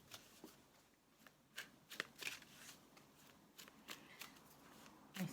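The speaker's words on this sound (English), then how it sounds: "One last shuffle." Tarot cards being shuffled in the hands during a reading, soft papery riffles and quick flicking bursts at close range, quiet and irregular, with no talking.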